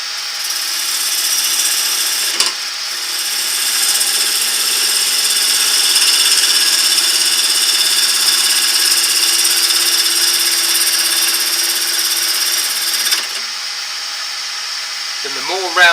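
A wood lathe spins a bowl blank as gentle cuts are taken, giving a steady high whine and hiss that swells and holds, then drops back with a short scrape at the end.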